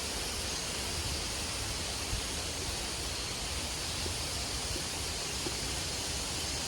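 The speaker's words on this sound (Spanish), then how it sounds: "Y por este lado se oye el río." A steady, even rush of flowing river water near the Goa Gajah cave temple in Bali, constant and unbroken, with no voices.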